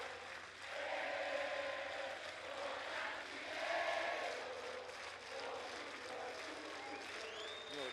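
Crowd cheering and applauding at a beach volleyball Grand Slam final in Sao Paulo, a steady roar of clapping and shouts that swells and dips throughout, with a commentator's voice faintly underneath.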